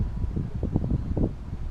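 Wind blows outdoors on a boat on a river, a close, loud rumbling buffet of gusts against the microphone, low and continuous through the clip.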